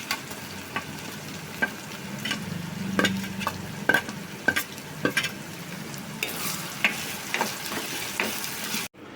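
Browned onion with garlic-ginger paste and dry spices frying in a pan: a low, steady sizzle broken by repeated sharp spoon taps and scrapes against the pan, with a brighter burst of hissing toward the end.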